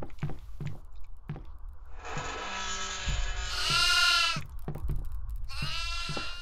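Goat bleating in the horror game Devour on a farm level, several loud wavering bleats close by, punctuated by sharp rhythmic thumps like footsteps or knocks.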